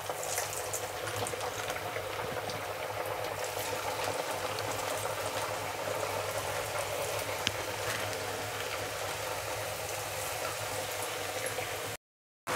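Masala lentil crackers (pappu chekkalu) deep-frying in hot oil, a dense, steady, close bubbling hiss that runs unbroken before cutting off abruptly near the end.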